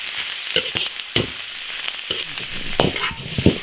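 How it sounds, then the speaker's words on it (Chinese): Sausage being tossed in an iron wok, a bright continuous sizzle close by, punctuated by sharp spatula scrapes and knocks every second or so. "翻炒均匀就行了。"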